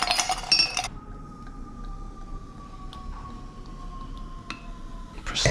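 Ice cubes dropped into a glass for a Limoncello spritz made with Prosecco and soda water, a burst of sharp clinks at the start, a lingering ringing tone of the glass, then a second clatter at the end.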